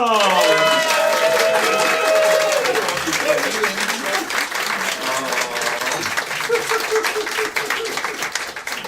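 A crowd at a comedy church show applauds steadily with some cheering, loud and close, while a voice speaks over the start of the clapping.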